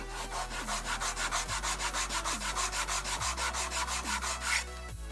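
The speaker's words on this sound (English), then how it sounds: "I'm gonna sand it till it's nice and straight." Steady back-and-forth rubbing of 120 grit sandpaper against a leather edge, a close rhythmic rasping of about twenty even strokes with no voices.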